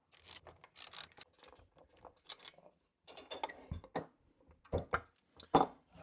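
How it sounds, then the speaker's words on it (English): A 9/16 socket wrench ratchets close up while a steel bench vise is being mounted, giving short bursts of quick mechanical clicking separated by brief pauses, with no talking. "I find a 9/16 socket wrench and a flathead screwdriver really works well for this."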